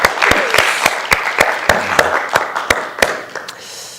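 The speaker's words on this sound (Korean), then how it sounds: "우리가 축복하면서 같이 한번 박수하겠습니다" A crowd claps together, a fairly loud burst of applause with a few sharper claps standing out, gradually thinning toward the end.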